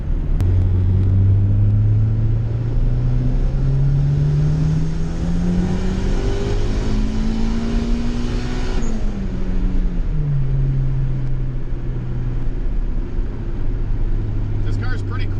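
A turbocharged GSR EG hatchback accelerates hard on the road, its engine note climbing through the gears with a brief drop at each shift, loud and close from inside the cabin.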